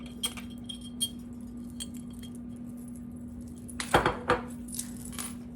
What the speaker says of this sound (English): We're going to start with whisking together the flour